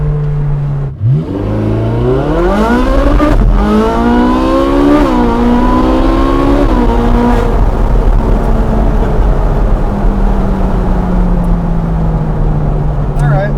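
A Ferrari 458 Speciale engine revs hard while driving, climbing sharply through the gears in rising howls before settling into a steady loud cruise drone, close and dominant throughout.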